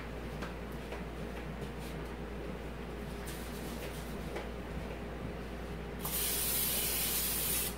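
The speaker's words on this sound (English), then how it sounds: "I think I will coat the inside with some nonstick spray." Nonstick cooking spray from a can coats the inside of an Instant Pot, a loud steady hiss of about two seconds bursting out after a stretch of quiet kitchen background hum.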